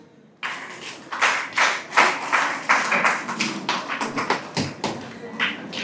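An audience at a Vishwakarma puja scholarship and talent award ceremony claps in a run of uneven bursts that start abruptly, close and fairly loud, then thin out toward the end.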